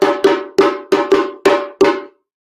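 A sharp percussion signal from African diaspora drumming rings out as seven bright, metallic hits in a quick syncopated pattern, each ringing briefly before the next. The hits are loud and close, then stop abruptly into silence.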